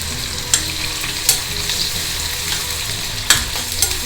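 Onion and green chili sautéing in a pan with cumin, a steady close sizzle of frying broken by a few sharp stirring scrapes or clacks.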